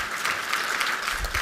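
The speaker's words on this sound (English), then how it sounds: "will you please stand and give them a round of applause?" A round of applause for members of the Let's Move team standing during a keynote address, dense and fairly loud crowd clapping that carries on steadily and evenly through the short stretch.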